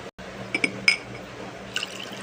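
Cold water poured into a drinking glass while mixing apple cider vinegar with honey, giving a short, close splashing fill with a few bright clinks of glass, fairly quiet and alone.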